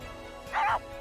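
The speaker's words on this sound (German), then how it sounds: "Bellt er mich einfach an." A Havanese dog in The Sims 4 gives a single short, high yip bark close by, set against soft background game sounds.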